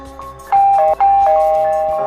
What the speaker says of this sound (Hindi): दरवाजे की घंटी बजाता है।